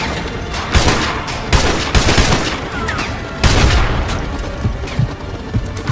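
Sniper rifles in the video game Modern Warfare fire in a loud, dense volley, several heavy booming shots overlapping with rolling echo and sustained battlefield rumble, close and forceful with no talking.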